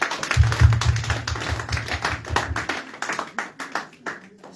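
A church congregation claps together in a dense, rhythmic burst that is loud and lively at first, then thins into scattered, fading claps, with a low hum underneath early on.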